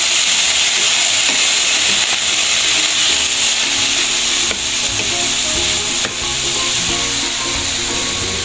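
Finely chopped pechay sautés with egg in a hot pan, a loud, constant hissing sizzle close up with a few faint scraping stirs throughout.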